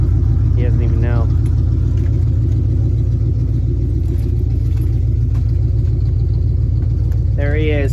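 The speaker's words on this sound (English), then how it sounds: "She's loud. She's on open headers." A loud truck engine on open headers, fitted with 35-inch mud tires, rumbles and idles steadily up close for the whole stretch, with someone talking over it.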